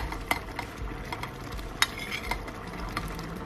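String beans and sponge gourd stirred in a pan with sizzling, a spoon scraping and clinking against the pan in irregular sharp strokes over a steady low fry, no talking.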